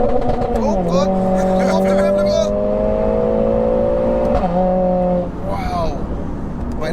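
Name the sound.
tuned 500bhp Mercedes A45S accelerating hard in first gear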